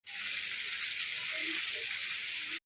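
Potatoes fry in a pan with an even, close sizzle that holds steady throughout and stops abruptly at the end.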